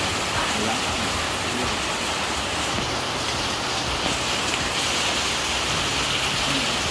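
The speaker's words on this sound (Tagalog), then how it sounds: "Habang malakas yung ulan, kain na." Heavy rain pours down steadily, a dense, even hiss filling the whole stretch, with faint voices barely present under it.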